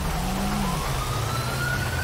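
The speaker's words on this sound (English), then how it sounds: "I can hear a police horn or an ambulance horn." A police or ambulance siren wails in GTA V, its rising tone sweeping steadily over a low engine rumble at moderate distance.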